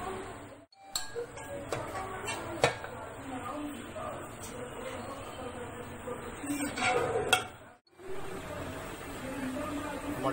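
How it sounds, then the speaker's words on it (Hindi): Mutton chops are served out of a cooking pan with soft metallic clinks and scrapes of a utensil against the pan, scattered over a low background. "अब हम ये मटन चाप को डिश आउट करेंगे।"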